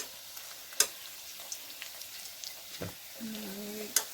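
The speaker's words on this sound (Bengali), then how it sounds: "একটু চেপে চেপে ভাজতে হবে যাতে ভিতরটা কাঁচা না থাকে।" Bitter gourd pakoras frying on a low flame in a pan, giving a faint steady crackle with a few sharp spatters and scraping touches from being pressed down.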